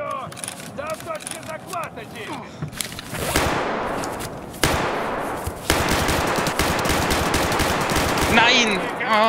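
Rapid bursts of automatic gunfire in Escape From Tarkov Arena crackle loudly and continuously with sharp cracks and thumps, while a voice talks intermittently in between.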